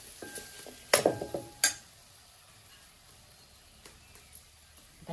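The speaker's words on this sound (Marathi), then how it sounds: "आता बटाटो घालतोय" Potatoes tipped into a pot of cashew curry cooking in a village kitchen, a quick cluster of clatters and clinks from a spoon against the pot, then a faint sizzle and occasional light taps.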